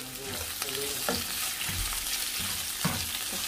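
Onions sizzle in a hot pan for tilapia escabeche, a steady close frying hiss broken by a few soft stirring scrapes and clicks, with no voices.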